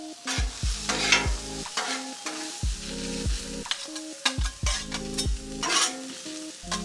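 Onions sizzle on a Blackstone griddle over low burners, a steady close crackle with occasional stirring, while background music with plucked, descending tones plays throughout.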